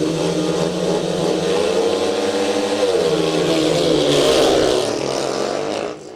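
Speedway motorcycles roar loudly off the start gate in a league meeting, their engines revving hard together in a dense, rising blare that dips at the very end.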